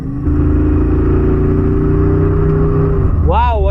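A 2025 Jeep Wrangler Rubicon 392 Final Edition engine holds a loud, steady deep idle-to-rev drone up close, then swoops through a couple of quick rising revs at the end.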